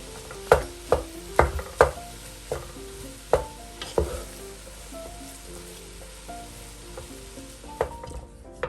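Khoya being stirred into carrot halwa in a pan, with a spoon scraping and knocking against the metal in a run of sharp, irregular clacks over a soft sizzle.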